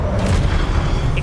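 A spell blast from Hogwarts Legacy, a Confringo fire spell, booms as a steady deep rumble with dense low-end energy. A couple of brief bright flares sit on top, and there is no speech.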